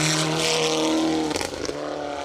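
A Ford Escort Cosworth rally car on MRF tyres blasts past on a 4WD stage of the Border Counties Rally, engine loud and close with a steady high drone, then a sharp gearchange crackle and pops as it pulls away.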